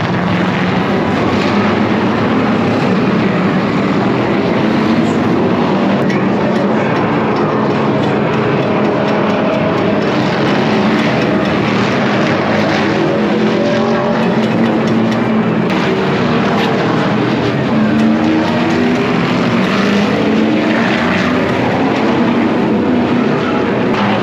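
NASCAR stock cars roll out from the pits onto the track for warm-up laps ahead of the green flag, a steady broadband engine roar and rumble filling the whole stretch without pause.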